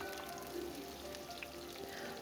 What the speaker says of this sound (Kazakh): Табамызға май құйып қыздырып аламыз. Үстінен пиязды турап, жақсылап қызарғанша қуырамыз.